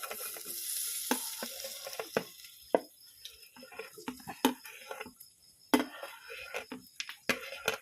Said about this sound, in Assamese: ইয়াত মই এতিয়া এই ভাজি থোৱা চব্জিখিনি দি দিলোঁ।